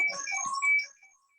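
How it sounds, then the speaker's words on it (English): A phone ringtone goes off during a Buddhist sutta discussion: a brief, melodic electronic chirping of a few quick notes that fades out within a second, heard alone. "There's a phone going on."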